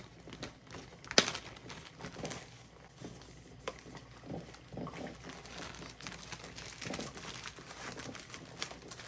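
Plastic and paper crinkle and rustle close by as a basic sandwich cut into four pieces and a bag of baked chips are packed into a school lunch bag, with irregular soft crunches and one sharp rustle early on.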